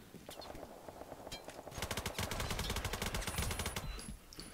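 Rapid automatic gunfire from a weapon in the video game Ballistic, a steady run of close, loud shots that starts after a brief lead-in of sparser noise and carries on to the end.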